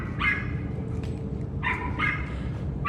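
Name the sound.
dog barking at the hotel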